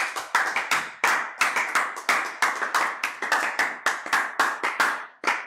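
A church congregation claps to acclaim the Lord, sharp close hand claps in a fast, fairly steady rhythm, loud and alone without talk.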